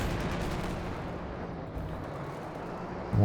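A walking Stuka rocket barrage in Company of Heroes 2 rolls on as a steady, dense rumble of distant explosions, continuous from start to finish with a slight swell at the end and no talking.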